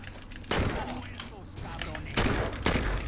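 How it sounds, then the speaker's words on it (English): Gunfire in the Saints Row 2 video game, with a few sharp, loud shots spread across the clip over a busy game soundscape. "You shoot MAERO one more time."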